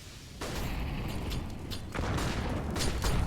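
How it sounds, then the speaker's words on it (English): A grenade explodes in a Counter-Strike match on the Inferno map, a dull booming burst amid scattered gunfire and game noise, fairly faint in the mix. "That's a chunky grenade"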